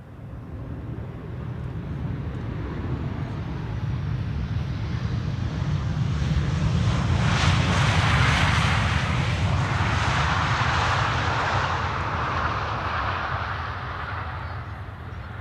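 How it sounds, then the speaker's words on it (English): A Transavia airliner arriving at Amsterdam Schiphol Airport from Olbia, its jet roar swelling from distant to loud and broad near the middle, then easing slightly as it passes. "This is Transavia flight 6918, arriving from Olbia."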